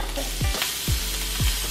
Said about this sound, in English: go ahead and drop that sausage in there. Ooh, sizzle, sizzle,